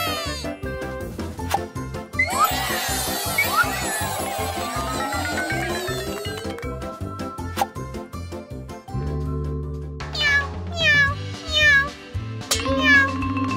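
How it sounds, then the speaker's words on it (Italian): Cat meowing repeatedly in a lively indoor scene, the meows mixed into bright music with chimes and sound effects, with a voice nearby. "Dov'è il gatto? Miau."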